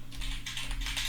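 Rapid typing on a computer keyboard, close and fairly soft, with about half a dozen quick key clicks running steadily over a low hum.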